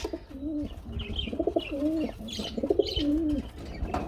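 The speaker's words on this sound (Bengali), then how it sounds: "দেখতে পাচ্ছেন কবুতর কত অ্যাক্টিভ হ্যাঁ ডাকও কিন্তু খুব সুন্দর ডাক" Several fancy pigeons coo in overlapping, repeated throaty phrases close by, with a few faint chirps in the background.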